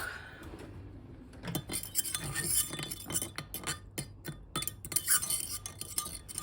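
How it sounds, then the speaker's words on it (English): A spoon stirs chicken stock mixed with spices, onions and tomatoes in a pot for curry, giving irregular metallic clinks and scrapes against the pan with a soft liquid swirl, close and fairly quiet. "Just going to stir up my stock."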